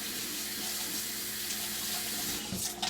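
Cold tap water runs steadily into a kitchen sink as a peeled onion is rinsed under it, a close, even splashing stream with a brief shift in the flow near the end.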